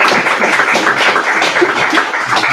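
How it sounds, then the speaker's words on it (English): Dense clapping from a student common room meeting audience, a round of applause for a speaker that stays busy and even for a couple of seconds with no voices. "can everyone please give Audrey a round of applause?"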